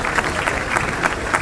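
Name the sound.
audience applause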